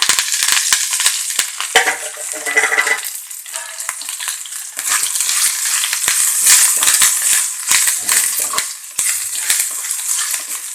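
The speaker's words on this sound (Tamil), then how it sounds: "சேர்த்து கருவேப்பிலை நல்லா முறுமுறுன்னு வர்ற அளவுக்கு நல்லா வறுத்து எடுத்துக்கோங்க" A handful of curry leaves sizzles and crackles in hot oil in a pan, with loud sputtering bursts and occasional stirring scrapes, the frying noise continuous and close.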